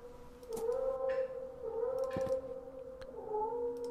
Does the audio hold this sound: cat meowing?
yes